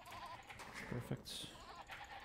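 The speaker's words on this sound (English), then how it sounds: "Ooh, some sheep back there." A sheep bleats in Age of Empires II, a short quiet bleat near the middle under light game sounds and a voice speaking.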